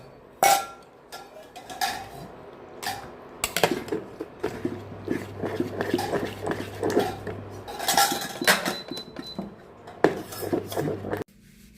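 Metal cookware clatters in a home kitchen as the gas is turned off and a lid is set over a pan of fried fish, with scattered clinks and knocks of varying loudness and no talking.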